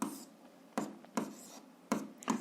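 Pen or pencil writing on paper while working through a 7th-grade algebra exercise, with a few short scratchy strokes separated by pauses, close and fairly quiet, no talking.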